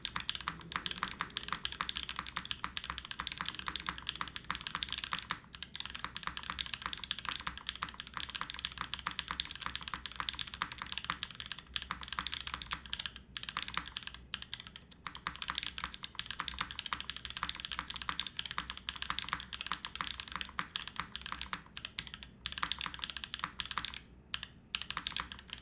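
Fast continuous typing on a Flash keyboard fitted with mechanical switches, close and crisp clicky keystrokes in a dense steady stream with a few brief pauses, no talking.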